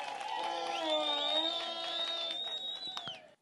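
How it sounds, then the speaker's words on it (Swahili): A crowd applauds and cheers for Dr. Samia Suluhu Hassan at an outdoor gathering in Chato, a burst of clapping with whistles and shrill ululation rising over it, moderately distant, ending abruptly after a few seconds. "Piga makofi kwa Dr. Samia Suluhu Hassan."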